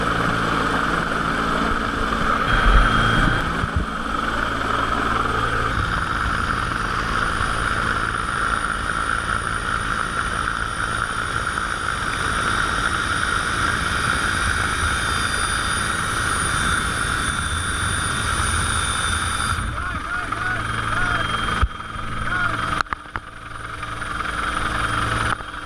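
An EMQ rescue helicopter over open sea near John Brewer Reef off the Townsville coast, rescuing people from a capsized boat; its rotor and engine drone steadily and loudly throughout, with no talk.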